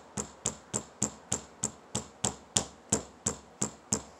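Sharp hammer strikes on rock repeat at a steady, even pace, about a dozen ringing clacks, close and clear with no talking.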